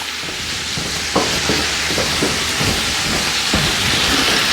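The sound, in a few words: potatoes and cauliflower sizzling as they are added to the pot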